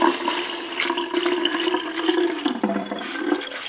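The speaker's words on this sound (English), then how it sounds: "press out as much water as I can." Wet wool is squeezed and pressed by hand to wring out water while lanolizing, giving a steady close splashing, dripping gush with no talk.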